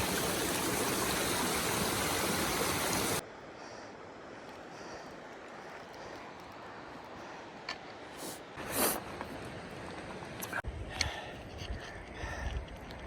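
A small stream at a river crossing in the Grand Canyon rushes loudly and steadily at first, then drops to a softer, distant flow with occasional splashes and handling knocks.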